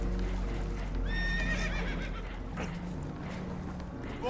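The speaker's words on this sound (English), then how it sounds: "Horses are spooked" Spooked horses neigh and whinny in Red Dead Redemption 2, several rising and falling whinnies over a steady low rumble, with hoof clopping and a busy background.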